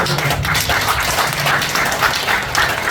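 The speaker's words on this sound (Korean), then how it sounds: "우리 한변에 문성 변호사 같은 분이 계시는데 박수 한번 쳐주시다" A seminar audience at a Korean War anniversary security forum applauds a lawyer, brisk close-up clapping from many hands, loud and continuous throughout.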